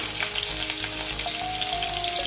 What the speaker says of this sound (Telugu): ఆయిల్ వేడైంది. కొన్ని ఆవాలు, జీలకర్ర వేసేసుకోవాలి. ఆ తర్వాత ఆనియన్స్ వేయాలి.